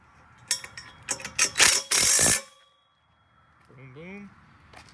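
A ratchet tightens bolts on a desk frame, giving a quick series of sharp, close clicks and metallic clangs, then a short buzzing ratchet run before a brief voice.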